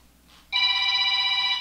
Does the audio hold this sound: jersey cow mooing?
no